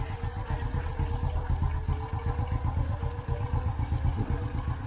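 Loose timing chain tensioner on an idling motorcycle engine, a steady fast clattering tick riding over the low engine drone, close and continuous throughout.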